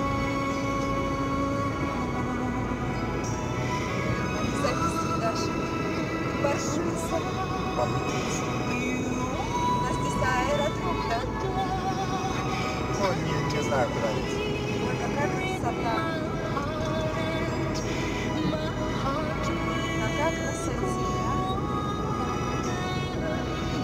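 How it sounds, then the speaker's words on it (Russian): Airplanes departing a Navy Day air show over St. Petersburg pass overhead, a continuous broad engine roar heard from inside a moving car with steady road noise, while people talk intermittently throughout. "Самолетик с парада."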